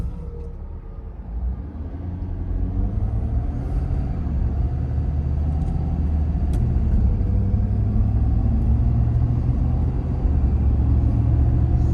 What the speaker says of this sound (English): there's some train tracks down here. We'll go over them really quick